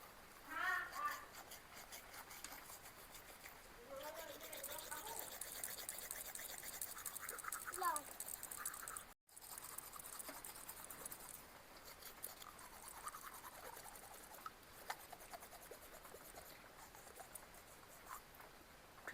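Teeth brushed with a guava leaf, a close, brisk, scratchy scrubbing that runs almost continuously with one brief pause midway.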